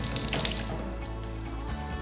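Water flows steadily into a manual water softener for an espresso machine during resin regeneration, a faint continuous trickle and hiss with no talk.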